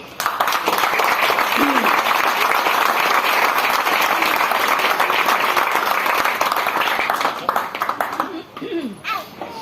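Church congregation applauding together after a sermon prompt, a loud, dense wash of clapping that holds steady for most of the stretch before thinning out near the end.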